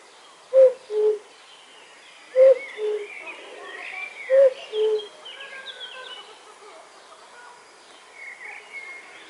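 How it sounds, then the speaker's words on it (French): A cuckoo calls three times, each a clear two-note "cu-ckoo" at a steady pace, with fainter birdsong twittering in the background. "ils ont la chance d'entendre et de voir un coucou chanter"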